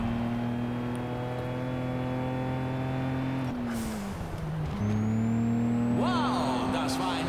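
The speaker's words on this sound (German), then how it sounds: "Seht euch Wagen 1 an. Er fackelt mit seinen Nitros förmlich die Strecke ab." Race car engines in the video game Juiced 2, one car firing its nitro on the last lap, drone with a loud steady tone that dips in pitch mid-clip and then climbs again under a faint voice.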